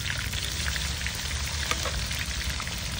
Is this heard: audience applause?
no